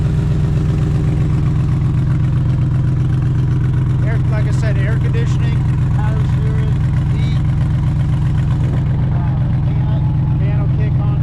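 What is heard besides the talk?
Gen 2 Coyote engine idling in Factory Five Shelby Daytona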